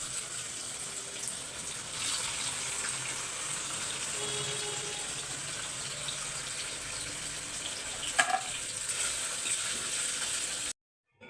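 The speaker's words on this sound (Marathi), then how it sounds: "ह्याच्यामध्ये पनीर तळून घेते" Paneer fries in a pan for palak paneer in a home kitchen, making a steady, moderately quiet hiss and sizzle, with one brief clink partway through.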